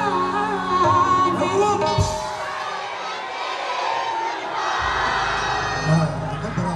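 At the Bhuru Nag Devta Mela 2022, a large festival crowd cheers and shouts loudly in a sustained roar, with music and a voice heard around it.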